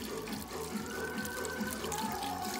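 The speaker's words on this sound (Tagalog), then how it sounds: "lagyan natin siya ng tubig" Tap water runs steadily into a cooking pot, about four cups, for a chicken noodle soup with boiled eggs, a continuous near splashing stream with no talk.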